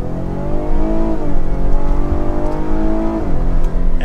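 A 2022 Cadillac XT5 Sport AWD Platinum with a 300-plus horsepower V6 accelerates in Sport mode, engine drone rising steadily through gears with a shift dip, loud and continuous from inside the cabin.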